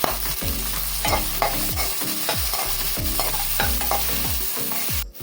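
Tamarind, ginger and garlic being stirred in a hot pan for Madurai-style chutney, a spoon scraping in steady repeated strokes over a continuous close sizzle, with no voices.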